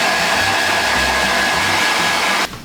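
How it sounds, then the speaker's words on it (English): A handheld hair dryer blow-drying freshly cut hair with micro bangs, a loud, steady close-up whooshing roar that runs unbroken, then cuts off abruptly near the end. "So I'm just gonna blow dry it, and then we can style it."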